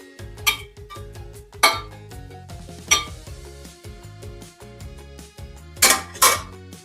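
Dishes and cutlery clinking while food is plated, with short ribs, broccoli and noodles set on a plate; several sharp ringing clinks and scrapes spaced irregularly, close and fairly loud.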